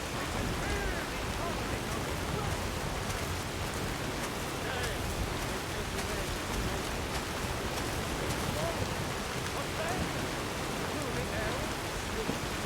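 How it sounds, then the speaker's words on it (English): Rain falls steadily in Skyrim Special Edition survival mode, a constant close hiss with faint scattered drops and speech murmuring underneath. "I can't hear you over the rain."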